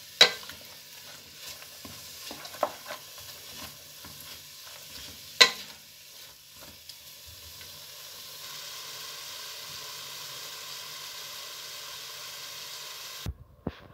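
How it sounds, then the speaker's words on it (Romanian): Chopped onion sautés with pork meat in a pan for goulash, a soft continuous sizzle with occasional scraping stirs and a few sharp clicks of the utensil. "Și ceapa peste carne și lăsăm să se călească împreună"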